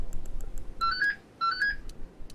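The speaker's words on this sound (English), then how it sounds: "Phone!" Electronic phone ringtone sounding in two short melodic bursts, moderately loud over a low background rumble, during a session of Elden Ring: Shadow of the Erdtree.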